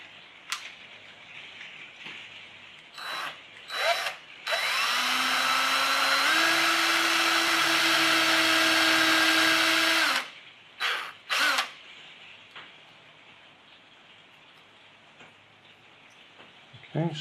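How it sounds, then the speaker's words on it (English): A power drill bores slowly and gently into wood, a steady whining motor lasting about six seconds with a pitch step partway through, bracketed by short bursts and handling clicks before and after. "I have found that quite often this wood splits if you try and drill it too fast"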